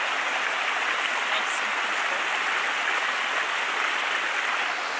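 A mountain creek flows steadily in broadband rushing water, a constant close wash of sound with no pauses.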